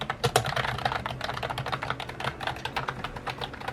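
Quick, continuous clatter of typing on a computer keyboard in a college dorm room, crisp keystrokes close up and moderately quiet, with no talking.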